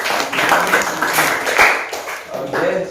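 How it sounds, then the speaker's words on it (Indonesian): A church discussion group claps for a participant, a busy spatter of hands that rises and falls over about three seconds, with voices mixed in among the applause. "Oke, tepuk tangan untuk dia."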